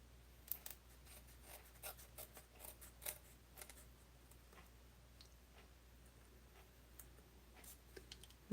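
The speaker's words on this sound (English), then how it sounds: "That was hanging off well enough that I could get my scissors in there." Scissors snip at craft material with faint, scattered clicks and light cuts over a quiet background, close to the microphone and with no talking.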